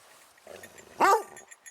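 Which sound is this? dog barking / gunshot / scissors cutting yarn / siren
dog barking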